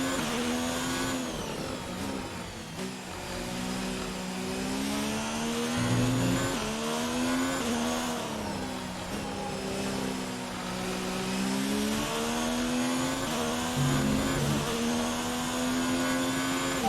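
F1 car engine in the F1 2019 video game at the Hungaroring, a loud continuous high-pitched whine that rises and falls steadily through gear changes for the whole stretch, with no talking.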